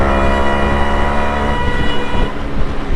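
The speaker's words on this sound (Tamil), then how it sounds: "நம்ம இந்த மாதிரி ஹாரன் செட் பண்ண முடியும்." Siren-style horn fitted to a Yamaha RX100 motorbike, sounding loud and close as a sustained wailing tone that fills the whole stretch, with no talk over it.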